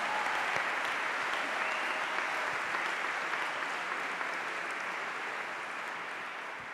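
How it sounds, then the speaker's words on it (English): Sustained audience applause at a school Christmas concert, a dense, steady wash of many hands clapping in a hall, holding strong and easing slightly toward the end. "So please stand so we can clap for you."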